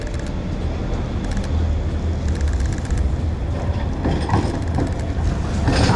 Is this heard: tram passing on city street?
yes